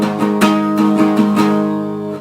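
A rhythm guitar strums the pre-chorus of a song with a barre chord, the down, down, up, down, up pattern played twice in a steady, close, loud rhythm that fades at the end.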